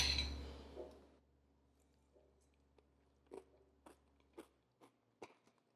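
Crunchy bites into a Thanksgiving dessert, a gingerbread-like pumpkin cake: after a loud opening rustle, a run of sharp, close crunches and chews comes at irregular intervals over a quiet background.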